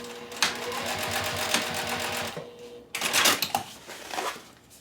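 A sewing machine stitches straight across a fabric corner while making a sander sling, its rapid mechanical chatter running steadily with a brief pause partway through before stitching resumes.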